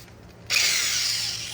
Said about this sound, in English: if you have an electric impact or an air, it works out way better. Take them right off.